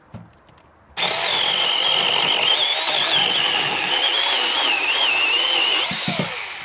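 A cordless mini chainsaw starts abruptly and cuts through cherry wood with a loud, close, steady buzzing whine that holds for about five seconds before easing off as the cut finishes.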